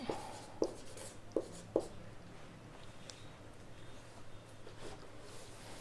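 Chalk or a marker writes on a board in a classroom lesson on mirrors, producing soft scratchy strokes with a few sharp taps near the start, faint and close, no speech.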